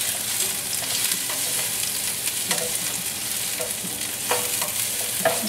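Chinese sausage frying in a pan for rice noodles, a bright continuous sizzle with occasional stirring scrapes and pops, close and steady, no voices.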